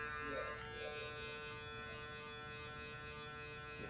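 Rebel hair trimmer buzzing steadily up close while cutting a taper haircut, a continuous electric hum with no talk over it.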